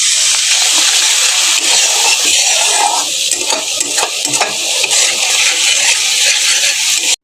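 Spice masala fries loudly in a pan for a katla fish and bottle gourd curry after a splash of water, a dense close hiss with scraping stirring strokes throughout that cuts off abruptly at the end.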